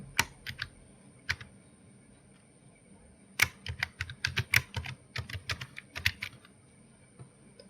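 Admin password being typed on a computer keyboard, close crisp key clicks in quick irregular bursts with short pauses between, fairly quiet with a faint steady electronic hum underneath and no talking.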